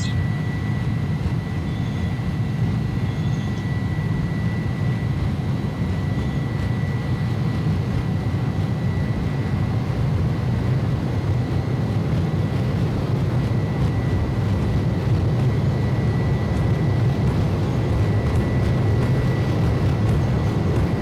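Jet engines of an iniBuilds A300 airliner in the X-Plane 11 flight simulator spooling steadily during the takeoff roll, a continuous loud low roar with a faint sustained whine above it, no talk.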